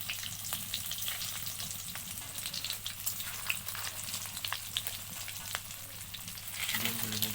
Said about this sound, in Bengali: ভালো করে ভাজার জন্য।